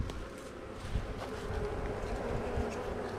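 Honeybees buzzing in a steady, dense drone at a beehive during a nectar dearth, close and continuous throughout.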